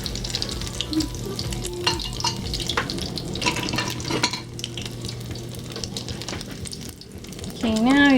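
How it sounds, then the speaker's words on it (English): Filipino turkey giniling torta, a ground turkey omelette, sizzling steadily in a frying pan, with a continuous loud crackle, occasional utensil scrapes and a rising sizzle near the end, close up. "now you just want to fry until it's a nice golden brown"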